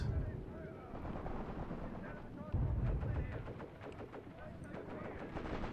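Mortar rounds land in the WWII-style tactics game Graviteam Tactics: Mius Front as low, rumbling booms, one early and a heavier one midway, over a steady battlefield din with scattered smaller shots.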